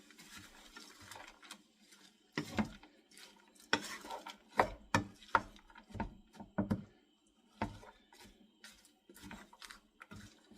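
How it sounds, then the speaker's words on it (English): A spoon or spatula stirs cauliflower rice in a pan during meal prep, giving a string of close scraping clatters and knocks at irregular intervals, moderately loud and without talk. "Get it nice and stirred so that the cauliflower rice can start cooking."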